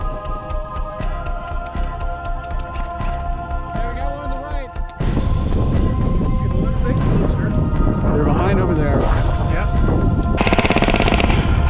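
Airsoft guns fire BBs outdoors at Freedom Airsoft in Arizona, with rapid bursts of full-auto shots close by and more distant rattling, blended with steady wind buffeting the microphone and brief voices.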